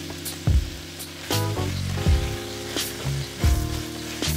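Garlic, vegetables, thyme and rosemary sauté in a pot for braised short ribs, making a close, loud sizzle that swells in several bursts as the pan is stirred, with a faint ringing tone underneath and no speech.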